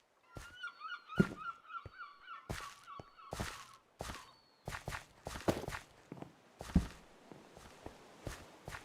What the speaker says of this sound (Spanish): Cuervo, hay que tener cuidado